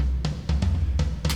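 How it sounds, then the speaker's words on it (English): Acoustic toms from a Logic Pro Drum Kit Designer kit play a quick pattern, five or six punchy hits thumping over a sustained low drone, with no voices. "let's load a tom pattern up, which makes me toms sound like this."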